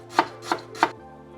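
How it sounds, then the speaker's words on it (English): A knife chops lemongrass finely on a board in three crisp, evenly spaced cuts, loud and close, with no speech. "Chop that real fine just to help the blender out."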